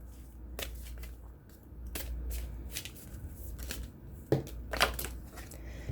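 Tarot cards are shuffled in a quiet room, a series of soft, crisp riffling and slapping bursts with short pauses between them, close and fairly faint.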